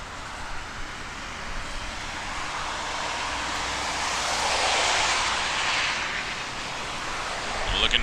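Air Canada 688 passing at Toronto Pearson Airport, a wide jet engine roar that swells to a peak mid-way and then eases, loud and close, with a voice talking nearby.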